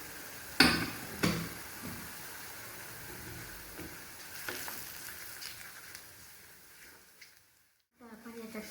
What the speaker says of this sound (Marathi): आपण मसाला छान तळून घेतला।